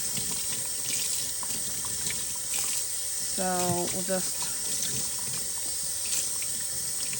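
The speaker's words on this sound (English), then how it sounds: "we're going to rinse out some of the excess dye" Cold tap water runs steadily in a sink, rinsing excess dye out of a Tencel warp with ikat resists, a continuous wash under a voice speaking briefly.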